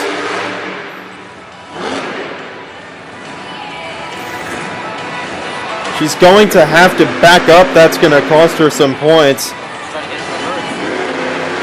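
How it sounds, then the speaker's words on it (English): A monster truck at Monster Jam in Hamilton, Ontario, 2019, gives a rapid series of loud, pulsing revs from its roaring exhaust during a run. The engine bursts sit under continuous arena commentary. "this truck, the best part about this run right now is the concert of exhaust"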